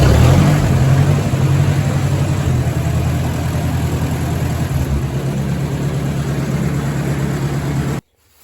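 A tractor engine running steadily after starting without choke, loud and close, with a low rumbling idle throughout that cuts off abruptly near the end.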